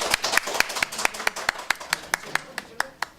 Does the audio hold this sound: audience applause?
yes